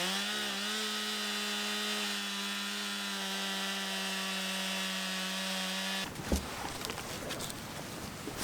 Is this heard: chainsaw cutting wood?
yes